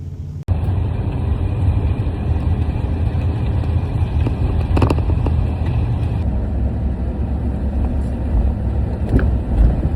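Ford F-150 Harley Davidson Edition 4x4 pickup with a V8 engine pulling hard under acceleration, a loud steady low engine drone heard from inside the cab with road noise and no talking.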